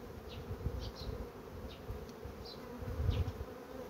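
Honeybees at a hive give a soft, steady buzz with individual bees droning past close by now and then, quiet and continuous with no talking.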